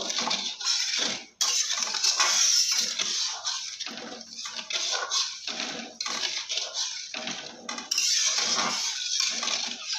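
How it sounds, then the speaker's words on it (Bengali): Sugar being stirred into water in a bowl, a steady rattling, clinking scrape of spoon against the dish with brief pauses, close and continuous. "এবার আমি চিনিটা ভালো করে গুলে নেব"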